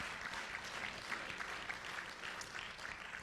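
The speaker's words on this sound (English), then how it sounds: "we should give a round of applause" Audience applause at a political meeting, a dense steady patter of many hands clapping throughout, moderately loud and without talk.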